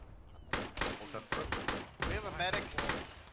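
Gunfire from an enemy BMP infantry vehicle and troops in the military video game Arma, sharp repeated bursts and single shots in an irregular rhythm, loud and close, with faint voices underneath.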